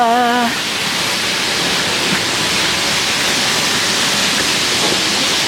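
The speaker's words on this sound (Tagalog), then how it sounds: "Umuulan pa!" Steady, heavy rain hisses continuously close by, a broad even wash of sound after a brief tone at the very start.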